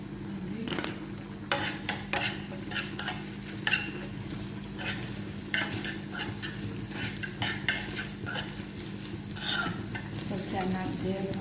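Onion and garlic fry in a pan with a steady sizzle, while a utensil stirs and scrapes against the pan in frequent clicks, heard up close without speech.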